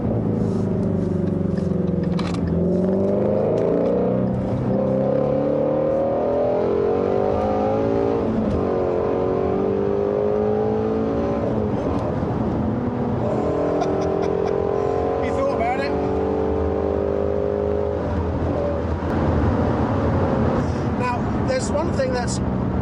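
A Ford Mustang GT350 driven hard, its engine revving up and down through repeated rising and falling pulls, heard loud from inside the cabin with people talking over it.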